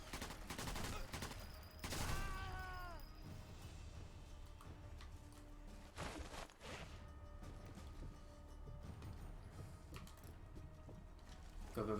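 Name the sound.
gunfire in video game Sniper Elite 4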